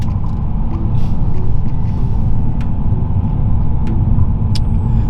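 A Stage 2 tuned BMW E92 M3 drives along winding back roads, its engine a loud, constant low droning rumble from inside the cabin, with a few faint ticks and clicks over it.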